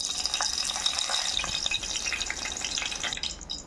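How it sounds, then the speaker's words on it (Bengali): Garam masala leaves drop into hot oil in a pan, giving a bright, crackling sizzle that stays dense and close, then thins slightly near the end, with no voices. "এর মধ্যে আমি গরম মশলার পাতাটা দিয়ে দেবো।"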